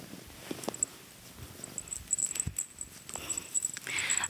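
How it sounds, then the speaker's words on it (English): A soft, low rumbling purr from a nearby cat, continuous and quiet, with small rustles and a few light clicks around it. "I hope y'all can hear her purring"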